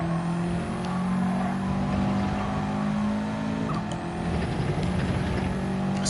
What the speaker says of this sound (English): So rather than revving it out in each corner, just short shift it.